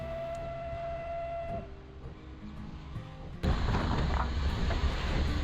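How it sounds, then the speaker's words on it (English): A single train whistle in Microsoft Train Simulator holds for over a second, then fades into a quieter mechanical hum before a loud rush of broadband noise takes over. "So I'm blowing my whistle back."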